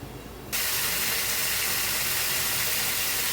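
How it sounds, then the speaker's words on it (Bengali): Vegetables cooking in a little water in a pan give off a loud, steady hiss that starts abruptly after a brief quieter moment, then holds constant and close. "বন্ধুরা অল্প একটু জল দিয়ে সেদ্ধ হতে দেবো সবজিটা।"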